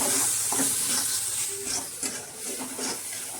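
Milk being stirred into sheera, a sweet semolina dish cooked in ghee in a pan: a steady hiss and sizzle with soft scraping strokes of a spoon recurring every half second or so, close and alone without talk.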